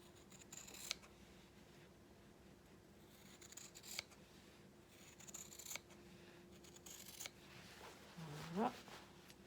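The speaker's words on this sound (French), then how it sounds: "je tourne la jambière au fur et à mesure que je coupe" Fabric scissors snip through a trouser leg along a marked hem line, giving a few quiet, scattered cuts and rustles close by under a faint hum, with a short bright squeak near the end.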